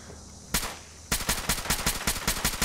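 Suppressed assault rifle fire in Fallout 4: a single muffled shot, a short pause, then a rapid even burst of about a dozen suppressed rounds, crisp and close.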